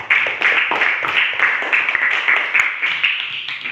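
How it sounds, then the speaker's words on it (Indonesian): A classroom group gives applause for group 4 after their discussion presentation, a dense burst of many hands clapping close by, steady and lively for a few seconds with no speech. "mari kita beri aplaus untuk kelompok 4"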